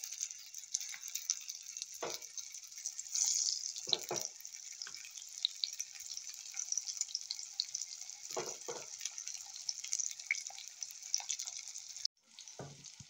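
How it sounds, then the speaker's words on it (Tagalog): Egg mixture with onions, tomatoes, coriander and spring onions frying in a pan: a steady bright sizzle throughout, with occasional soft stirring clunks, then an abrupt drop as the pan is moved. "So fry natin ito."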